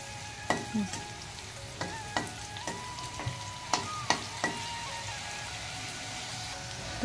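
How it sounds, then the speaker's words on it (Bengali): Dried chillies crackle as they fry in hot oil, a soft constant sizzle broken by sharp, irregular pops and spoon clicks spread across several seconds, with no one talking. "এই যে দেখুন আমার মরিচ ভাজা পুরো একদম কুচকুচা করে ভাজা হয়ে গেছে, একদম মশমশা করে।"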